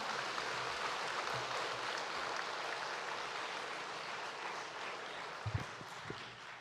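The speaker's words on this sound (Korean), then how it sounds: "하나님 앞에 영광의 박수 올립니다." A church congregation at a revival meeting applauds in a steady, even wash of clapping that sounds fairly distant and soft and lasts several seconds, with a few low thumps near the end.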